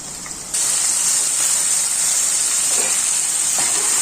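Chicken added to fried onions in a pan, setting off a sudden loud, steady sizzling hiss that continues evenly with faint clinks.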